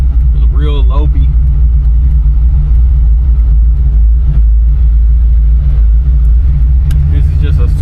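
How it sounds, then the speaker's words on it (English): A 1974 Chevrolet Camaro Z28 V8 with a low-lift cam idles with a loud, steady deep rumble throughout, close by, while someone talks over it. "As you can hear that that rumble, like, she sounds great."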